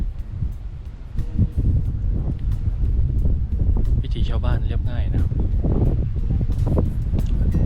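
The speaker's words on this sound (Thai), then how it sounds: "อากาศดี ลมแรงครับวันนี้" Strong wind blows outdoors in the rural village of Tha Lat, Ubon Ratchathani, rumbling and buffeting the microphone steadily while someone talks over it.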